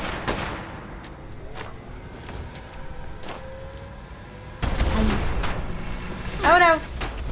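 Gunfire crackles in Fallout 76, sharp shots and rapid bursts popping through the scene, loudest in the second half, with talking mixed in.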